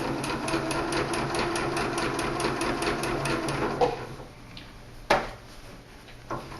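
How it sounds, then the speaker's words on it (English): A sewing machine stitching quilt block pieces for a wavy bars block, a fast even mechanical rattle that stops partway, followed by a few clicks and handling knocks, close and without speech. "grab your pieces and start to sew again"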